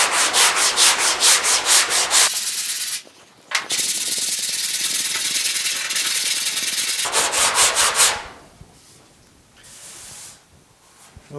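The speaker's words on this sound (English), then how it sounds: "So let me sand down here and see what happens." Hand sanding on an epoxy-primed steel fender of a GTO under restoration: loud, close rhythmic scraping strokes, pausing briefly, then a long steady stretch of rubbing, followed by quicker strokes that fade to softer scuffs.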